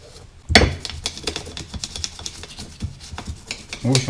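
Quick, irregular scrubbing and clicking from cleaning gas reducer parts for an Artic Tomasetto LPG system, close up and moderately loud, with one sharp knock early on.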